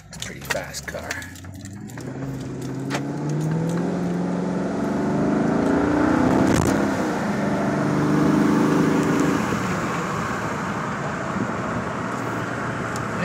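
A fast Volvo car accelerates hard, its engine note rising and swelling into a loud sustained roar after a few clicks and rustles at the start, then holding steady near the end.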